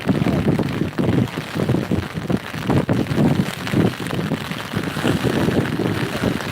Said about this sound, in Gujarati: પવને બહુ જોરદાર ચાલી રહ્યું છે